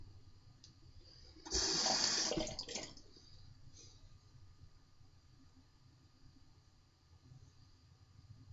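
Cold water runs briefly for a rinse, a short burst of gushing flow lasting about a second and a half before it tapers off into quiet room tone, with no talking.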